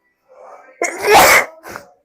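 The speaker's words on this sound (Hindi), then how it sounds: "तबीयत खराब होने की वजह से छींके, गला खराब, बहुत छींके आ रही।" A woman who is unwell sneezes once at close range in a home kitchen, a sharp loud burst preceded by a short inhaled buildup and followed by a brief breathy tail.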